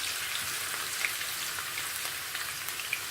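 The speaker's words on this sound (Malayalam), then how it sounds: "ഒരു 6 ഉരുളക്കിഴങ്ങ് ഇങ്ങനെ ചെറുതായിട്ട് അരിഞ്ഞ് നമുക്ക് എണ്ണയിലൊന്ന് വറുത്തെടുക്കണം" Chopped potatoes frying in hot oil for a Kerala-style chicken curry garnish, a steady crackling sizzle with small pops, close and even throughout with no talk.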